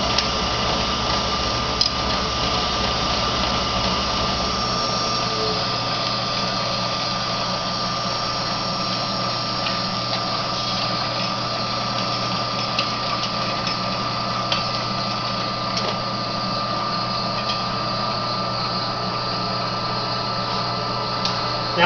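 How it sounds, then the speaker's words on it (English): A three-phase idler motor of a rotary phase converter spinning on its own, a steady electric hum with a fine high whine that holds evenly throughout, alone and close, with a deeper drone dropping away early on. "So now the idler motor is spinning on its own."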